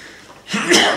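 A sneeze bursts out during an Italian municipal council meeting in Bisenti, loud and close after a second of quiet room tone, with a brief second spike right after.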